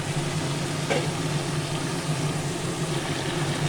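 Chopped tomato frying in a pan, giving a steady, close hissing sizzle throughout with a single light clink near the start.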